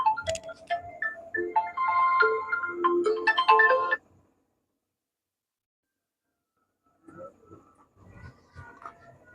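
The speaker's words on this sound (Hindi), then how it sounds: "थोड़ा फोन आ गया था" A mobile phone ringtone plays a bright, melodic tune for about four seconds during a class 10 physics lesson, then falls silent before a fainter snatch of tones returns.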